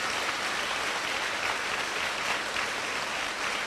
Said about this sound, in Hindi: जोर से तालियां बजाके प्रभु धन्यवाद दीजिए